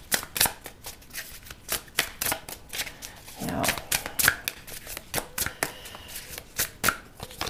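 Tarot cards are shuffled in a rapid run of crisp riffling snaps, close and clear, with a brief softer pause partway through.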